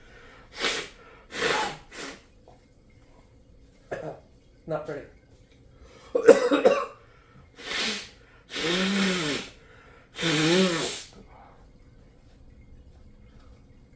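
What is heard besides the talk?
blowing nose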